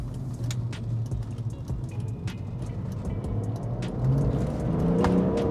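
A BMW E46 M3 engine pulling steadily under acceleration, a continuous mid-pitched drone with road and tire noise that rises and grows slightly louder toward the end, with no voices.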